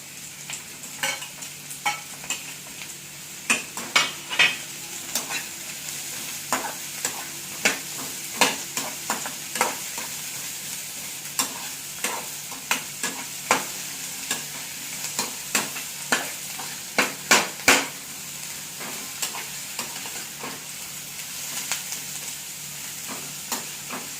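Garlic frying in a pan for Tamil tomato chutney, with a continuous close sizzle and repeated sharp scraping and clinking of a spoon stirring, some strokes louder than others, heard without talk.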